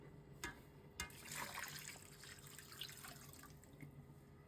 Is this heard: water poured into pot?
yes